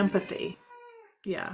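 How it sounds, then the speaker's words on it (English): A house cat gives a single drawn-out meow in a short gap between stretches of a person talking nearby indoors. "that's my cat"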